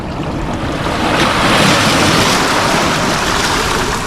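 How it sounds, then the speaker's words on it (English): A loud, steady rush of water keeps going for about four seconds as half a liter of water pours into a container close by. "I'm just going to add like a half a liter of water"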